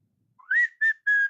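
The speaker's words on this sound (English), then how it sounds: "I start whistling a tune." Someone whistles a short tune close by: a rising slide into a held note, then two more clear sustained notes with brief gaps between them, alone in quiet.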